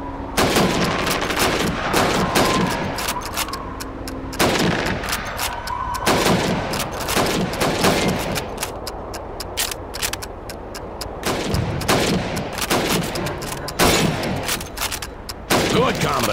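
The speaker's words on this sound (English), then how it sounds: "You have 15 seconds to shoot the helmets." Rapid rifle shots and overlapping gunfire at a shooting range of helmet targets in Call of Duty 2, loud and sustained with repeated bursts throughout, with a voice faintly beneath.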